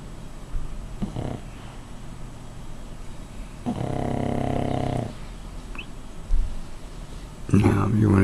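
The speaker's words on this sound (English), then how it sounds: "Always snoring." A dog snores in a long rasping breath at close range, with short snorts before and after it and a voice speaking briefly near the end.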